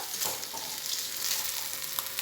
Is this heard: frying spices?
yes